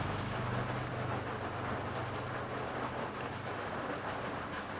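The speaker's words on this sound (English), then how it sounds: "it's raining here, by the way" Rain falling outside, a steady, dense broadband hiss with a low rumble underneath, continuous and unbroken throughout with no voices.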